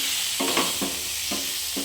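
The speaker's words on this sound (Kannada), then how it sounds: "ಇದಿಷ್ಟನ್ನು ಸೇರಿಸ್ಕೊಂಡು ಫ್ರೈ ಮಾಡ್ಕೊಳ್ಳಿ." Capsicum and potato frying in a pan with turmeric, coriander powder, chili powder and garam masala, a steady sizzle broken by four or five short scraping stirs of a spoon, close and alone with no talking.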